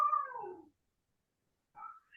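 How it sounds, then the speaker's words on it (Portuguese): A cat meowing nearby, one drawn-out, falling meow followed by a pause and a shorter, rising second meow, fairly quiet and heard without talk. "tem um gato aqui miando tudo aqui"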